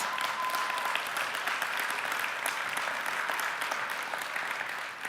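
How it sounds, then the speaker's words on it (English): The audience at the IFA 2022 opening press conference in Berlin applauds steadily throughout, a moderately loud, even wash of clapping from a large hall crowd. "Let's give them a hand of applause."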